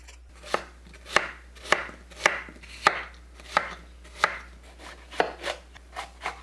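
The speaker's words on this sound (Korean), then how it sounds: "배 껍질과 씨앗을 제거하고 믹서에 갈기 좋은 크기로 대충 썰어서 준비합니다." Rhythmic knife chops on a cutting board as a peeled pear is roughly cut, about a dozen evenly spaced crisp strikes, close and clear with no talking.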